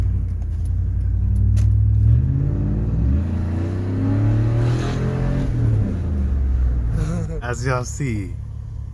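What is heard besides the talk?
Chevy Suburban/Tahoe engine running after catalytic converter replacement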